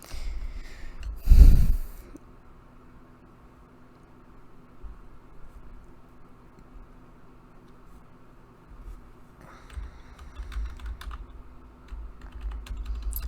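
A computer keyboard: one loud thump near the start, then long quiet with scattered faint keystrokes, followed by sparse, close clicks of typing toward the end.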